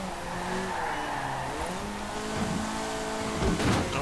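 Small-engined car driving in Forza Horizon 4, its engine note rising and falling through gear changes, with tire squeal building toward the end as it corners.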